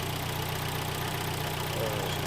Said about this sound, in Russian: прогреем движок